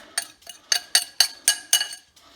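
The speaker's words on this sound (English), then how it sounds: "take your spring-loaded pan here, dump the crumbs in" Graham-style cookie crumbs poured into a metal spring-loaded cheesecake pan, heard as a quick series of about eight sharp, close rattling clinks and patters in an uneven rhythm, with quiet gaps between.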